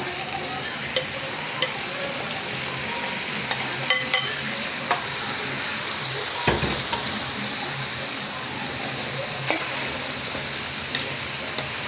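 Cucumber slices frying and being stirred in a pan as a vegetable dish: a steady, close sizzle runs throughout, broken by light scraping stirs and occasional clicks of the utensil against the pan.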